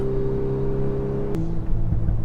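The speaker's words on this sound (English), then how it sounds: "Man, those turbo noises, you get a few pops out the back." Inside a Volkswagen Golf R, the engine and turbo hum steadily, then drop in pitch after a sharp transient as the throttle lifts, with faint popping and rumble following; no one speaks.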